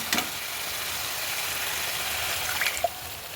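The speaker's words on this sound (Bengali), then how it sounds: "এবার আমরা এর মধ্যে সামান্য পরিমাণ একটু জল দিয়ে দেবো।" Water poured into a pan of yogurt fish curry (doi katla) gives a steady, close hiss and trickle of running liquid over a faint sizzle, with a couple of brief clinks near the end.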